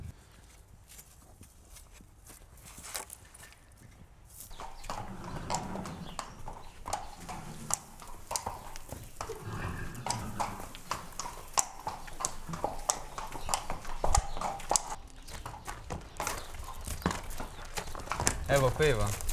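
Horse hooves clip-clopping at a steady walking rhythm, fairly close and continuous, with a voice speaking over part of it.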